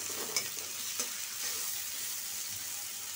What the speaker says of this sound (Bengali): পেঁয়াজটা ভাজা লাল করে নিই